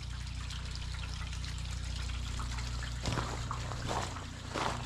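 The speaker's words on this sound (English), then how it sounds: "I've got a hose set up in the downspout, and I can hear it trickling in there." Water from a garden hose fed into a downspout drain trickles steadily and softly, with a few small splashes and gurgles and no talk.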